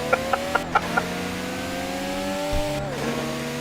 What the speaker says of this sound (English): That sounds like a Supra.